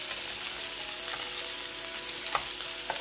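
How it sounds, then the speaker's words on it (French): Homemade burger steaks fry gently in a hot pan with no added fat, giving a steady, close sizzle with a few faint pops. "Ma poêle est chaude. Mes steaks sont en train de cuire tout doucement."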